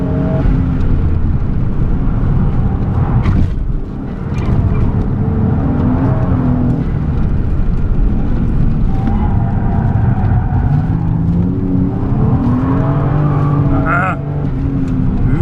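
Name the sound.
1994 Toyota Mark 2 Tourer V JZX90 driving on Suzuka track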